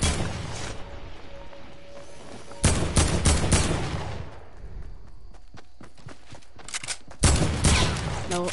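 Gunfire in a first-person shooter video game, dense bursts of rapid shots and crashing impacts with quieter stretches of footsteps and scattered pops, loud and close, no voices.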